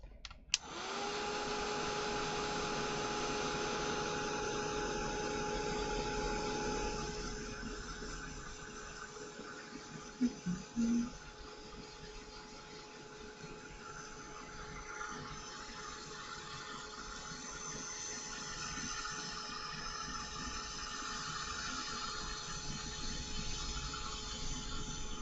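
A heat tool blows steadily over craft paper, a close, constant whooshing roar with a faint whine that carries on for the whole stretch, briefly interrupted by a couple of small knocks.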